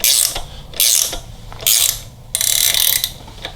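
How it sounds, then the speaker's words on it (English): A 3/4 inch ratcheting wrench seats a cam bearing on a Harley-Davidson Milwaukee-Eight engine, sounding as four loud close bursts of rapid ratchet clicking separated by short pauses. "I'm going to take a 3/4 inch ratcheting wrench, and I'm slowly going to start ratcheting the cam bearing into place"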